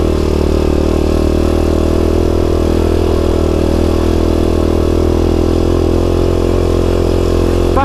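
A small single-cylinder 250cc dirt bike motorcycle engine runs loud and steady on country lanes, a continuous close drone with no voices.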